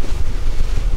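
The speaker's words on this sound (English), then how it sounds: "25 mile an hour winds." Strong wind of about 25 mph buffets a boat on choppy water off the Texas coast, a loud continuous roar of wind noise with rushing waves beneath.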